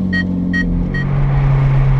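Ferrari 458 Italia engine pulling away from a standstill, a steady low rumble that builds slightly louder, with a few short high electronic chimes near the start.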